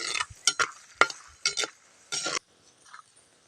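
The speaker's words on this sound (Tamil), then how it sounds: "இப்படி நல்லா எண்ணெயில வறுத்து எடுத்துக்கணும்" Peanuts roasting in hot oil for Tamil puliyodharai, giving quiet sizzling with a series of short scraping stirs from a spoon or ladle in the pan, several bursts close together and then a near-silent pause.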